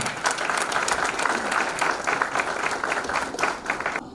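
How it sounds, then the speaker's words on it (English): An HR forum audience in Aurangabad breaks into a full round of applause, dense and sustained, with many overlapping claps rolling evenly for about four seconds and no voices on top. "let's have a huge round of applause for Aurangabad HR Forum"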